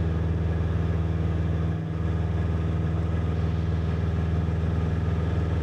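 Light aircraft engine running at full power during a climb-out on a private pilot training flight, a steady loud droning hum with even pulsing, close and continuous throughout.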